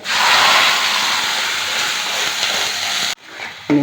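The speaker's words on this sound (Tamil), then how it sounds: "இன்னும் இந்த அரைச்சி வச்ச மசாலா ஊற்றிக்கிடுவோம்." Ground masala paste hitting a hot pan of roasted onions for Kerala-style moru kuzhambu, giving a loud, steady broadband sizzle that hisses for about three seconds before cutting off abruptly, then resuming briefly.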